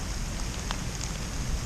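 Steady rain falls outdoors on a 50-degree morning during a deer hunt, a dense close hiss with soft patters and no voices.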